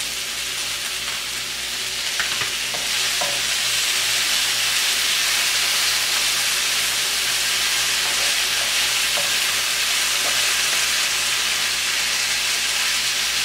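Butter melting on chicken in a pan over a low burner, giving a steady, loud, hissing sizzle throughout with a few faint pops and clicks, and no voices.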